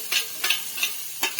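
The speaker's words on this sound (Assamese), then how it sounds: "এয়া মই দি দিছোঁ আদা নহৰু পেষ্টখিনি।" Ginger garlic paste frying with onions in oil sizzles steadily while a spoon stirs it in four quick rhythmic scrapes, close and moderately loud.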